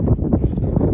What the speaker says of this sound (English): Like I said, pardon the wind